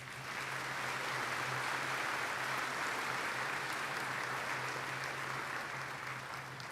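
A commencement audience at a community college ceremony gives a round of applause for the planning team, a dense, even roar of many hands clapping that holds steady throughout.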